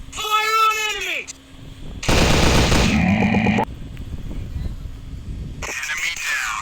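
Gunfire in a commando shooting video game: a dense, loud burst of rapid shots lasting over a second, preceded by a short voice and followed by quieter game ambience and another short burst.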